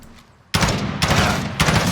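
Gunfire from aiming and shooting in Call of Duty Warzone, three loud close bursts of shots following a quiet moment, with no talking.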